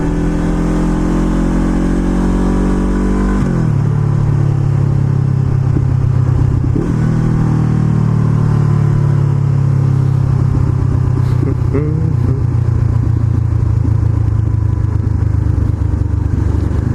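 A 2017 Honda CBR500R engine under way, a loud, close, continuous drone that shifts down in pitch early on as the rider changes gear, then settles into a steady hum with wind noise.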